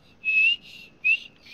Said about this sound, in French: jusqu'à qu'on arrive vraiment à siffler